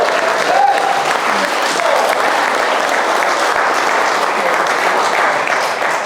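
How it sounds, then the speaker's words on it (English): A wedding crowd applauds the bride and groom in a dense, steady wash of clapping that carries on throughout, with some voices and cheering mixed in beneath. "Please join me in giving the bride and groom a big round of applause."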